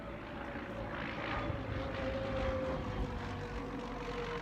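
An airplane passes over the active airport at Airport Mesa in Sedona, its engine a steady, fairly loud drone with a sustained tonal hum that holds for the whole stretch, no voices.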